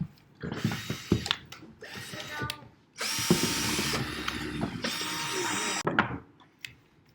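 A handheld power drill whirs in bursts, shifting between a higher-pitched fast spin and a lower, slower run, with loud sustained stretches broken by short pauses and clicks, close and alone without talk.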